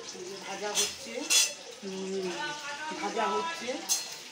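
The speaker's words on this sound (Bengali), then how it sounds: "আলুটা ভাজা হচ্ছে" Potatoes fry in a wok, a moderate sizzle running beneath a conversational voice, broken by several sharp clinks of utensils against the pan.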